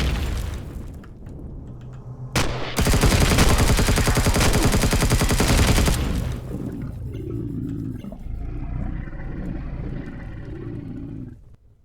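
Assault rifle fire in the sci-fi survival game Empyrion, a loud sustained burst of rapid shots lasting a few seconds, then fading into quieter ambient game sounds.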